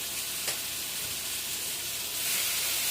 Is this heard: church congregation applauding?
no